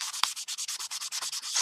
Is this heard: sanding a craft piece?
yes